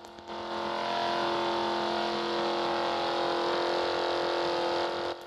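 High-speed car engine in the Shell Racing video game, a steady, loud, buzzy synthetic drone held at top speed for several seconds without talking.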